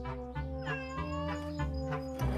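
A kitten meows several times in a row, high, close and fairly quiet, each cry short and a little plaintive, with soft background hum and no talking.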